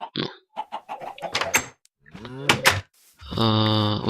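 A Minecraft chicken clucks in short bursts alongside other game sounds, mixed with brief clicks and a sustained tonal effect at the end.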